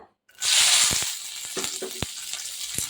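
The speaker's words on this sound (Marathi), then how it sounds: "तर ह्या मिरच्या आपल्याला छान असा भाजून घ्यायचा आहेत तेलामध्ये" Halved small green chilies drop into hot oil after a brief silence and burst into a loud, hissing sizzle that settles into steady crackling, with a few sharp pops and utensil taps.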